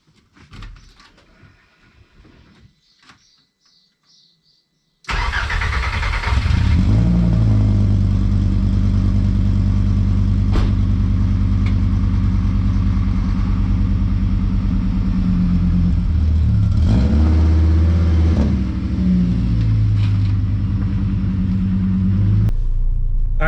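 A Holden VR V6 Savoy with an open-cat exhaust cranks and fires loudly after a few seconds of quiet clatter, then settles into a deep, steady rumbling idle with a brief rise and dip in the middle, close and alone.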